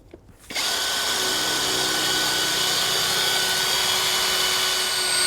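A power drill runs steadily and loudly, sinking fasteners into custom wheel covers for a 1968 Volkswagen, starting after a brief quiet moment and holding a constant whine to the end.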